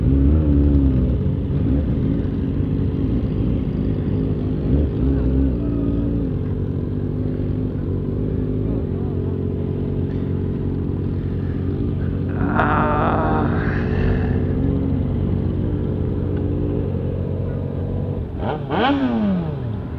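Motorcycles arriving at an international motorcycle meet, engines idling and rumbling steadily up close with a couple of throttle blips and passing revs standing out toward the end, no talking.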